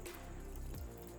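Clean water is poured over tofu in a storage container, a steady close trickle and splash that fills the whole short stretch without any talk.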